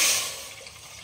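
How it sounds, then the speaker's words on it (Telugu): Water is poured onto jaggery in a pan, a brief bright splashing pour that starts strong and quickly fades to a soft trickle, with no talk. "సో ఇది వాటర్ పోసేస్తున్నాను."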